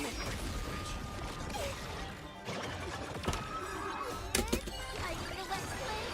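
A horse whinnies in a gacha-style video game battle, set against busy game music, mechanical clanks and effect sounds, with a couple of sharp hits near the end.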